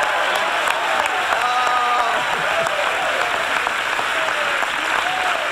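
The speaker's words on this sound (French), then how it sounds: "Donnez-lui une main d'applaudissement." A church congregation claps steadily and continuously, a dense crowd of hands with occasional cheers and voices rising over the applause.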